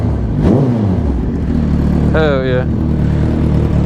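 A loud motorcycle engine drones close by while someone talks briefly over it, a steady rumble with a short throttle blip near the middle.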